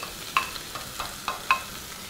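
A beef stroganoff meat mixture goes back into a pan of frying mushrooms and is stirred: a quiet, steady sizzle broken by several sharp scraping clicks of the spoon against the pan.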